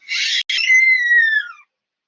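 A person gives a brief high-pitched scream that breaks for an instant, then resumes as a wavering shriek that trails off, heard alone against silence.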